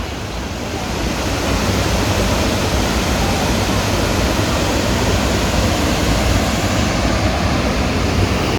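Rushing water close by at the base of Jogini Waterfall, a loud, dense, continuous roar that stays steady throughout with no voices over it.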